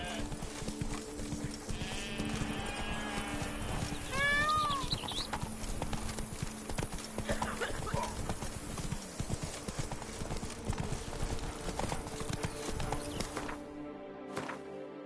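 Hooves of Roach, Geralt's horse in The Witcher 3: Wild Hunt (Blood and Wine), clip-clop steadily throughout amid game music and ambience, with a brief bleating animal cry partway through.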